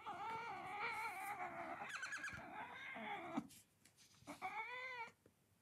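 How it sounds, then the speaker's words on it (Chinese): A small kitten on a desk meows close by, a run of drawn-out, wavering mews, then a brief quiet before a couple more cries. "小猫来了，在我桌子上呢"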